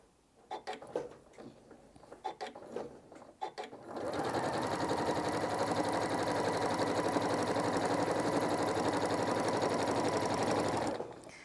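A home sewing machine quilts layers of fabric with a fast, even mechanical whirr that starts after a few scattered clicks and taps, runs steadily for about seven seconds, then stops abruptly.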